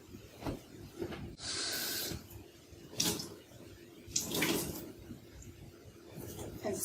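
Water runs from a tap in short splashing bursts onto a cloth being dampened for a kitchen paint finish, soft and close, with no talking.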